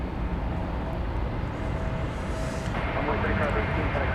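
A jet airliner passes at night at DFW Airport, a steady broadband roar of engine noise that holds evenly through the whole stretch at a moderate distance.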